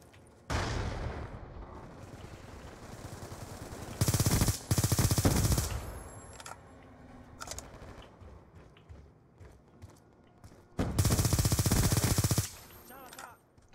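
Gunfire in Black Ops II multiplayer: three bursts of rapid automatic shots, one short early and two longer, against fairly quiet in-game background noise.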